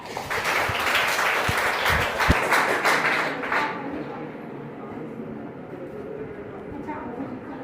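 A school audience at a National Science Day event bursts into loud clapping for a few seconds before it fades into room murmur and voices.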